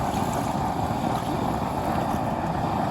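A used-oil burner cooking stove roars steadily and loudly, rumbling continuously without letting up, a dense whooshing noise filling the whole stretch.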